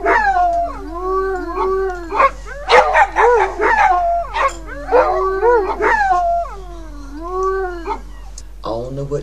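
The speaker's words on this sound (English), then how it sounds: "What you got playing, little puppy dogs?" Puppies howl, yip and bark together in a rising and falling chorus of high, whining calls, with short sharp barks mixed in, loud and close.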